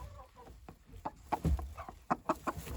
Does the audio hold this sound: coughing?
no